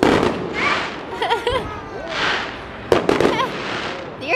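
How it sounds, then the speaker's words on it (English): Fireworks bursting at a baseball game, several sharp cracks and pops scattered through the stretch, with people talking and exclaiming nearby in between. "See the fireworks."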